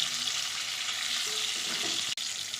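Small potatoes frying in oil with salt and turmeric give off an even, hissing sizzle at a fairly low level, steady throughout, with one sharp click near the end and no voices.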